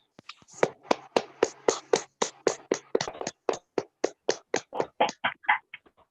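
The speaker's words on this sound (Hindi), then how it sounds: "हम तालियां बजाएंगे सभी" Slow, evenly spaced hand claps, around twenty, sound close and crisp with silence between them, like a single person clapping in steady rhythm.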